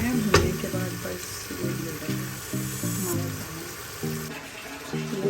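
Goat meat with whole spices and yogurt frying in a pot, a steady sizzle running throughout under faint background sound, with a few brief knocks.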